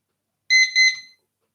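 A timer beeps in two short electronic bursts, loud and close, surrounded by silence.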